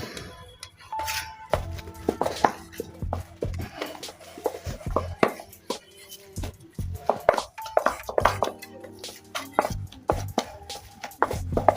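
Hands squeeze and mix shrimp bait into cooked rice, making close, irregular wet squelches and soft slaps in uneven bursts, with occasional light clinks.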